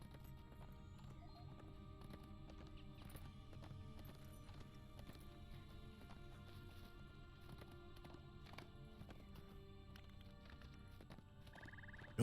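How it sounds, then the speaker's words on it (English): War horse hooves clip-clop steadily at a quick gait in a fantasy video game, a continuous rhythmic patter under a low rumbling background, with no talk. "Glad we're on this fast war horse."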